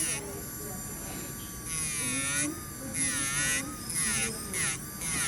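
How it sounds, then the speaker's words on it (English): A flex shaft grinding wheel works a silver ring seam, giving a steady high electric whine that rises and dips in pitch as pressure on the metal changes, close and continuous. "So I can use this wheel to kind of grind that away and blend it in as well."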